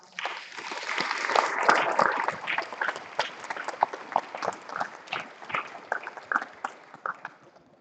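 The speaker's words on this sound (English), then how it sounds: "let's give our debaters a big round of applause" Applause for the debaters at a formal debate between Chuuk and Pohnpei rises quickly, peaks early, then thins into scattered, uneven individual claps as it tapers off toward the end.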